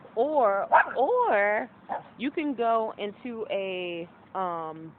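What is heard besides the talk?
dog barking and whimpering while being walked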